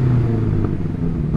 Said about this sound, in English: I'm going to rev up this BMW